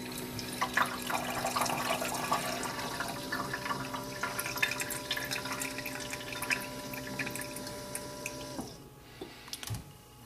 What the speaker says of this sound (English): So to get water, all I do is I press the start button.